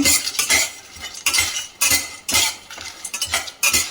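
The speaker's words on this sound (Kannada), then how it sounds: "ನಾನು ಮೀಡಿಯಮ್ ಫ್ಲೇಮ್ನಲ್ಲಿ ಫ್ರೈ ಮಾಡ್ಕೊಳ್ತಾ ಇದ್ದೀನಿ" Drumstick pieces with sesame fried in a pan on medium flame, heard as repeated scraping stirs and clinks of a spatula against the pan over a soft background sizzle, close and fairly loud, with no talking.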